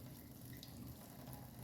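Boiled macaroni water draining out of a pot with a built-in strainer lid, a faint, steady pouring rush that runs without a break.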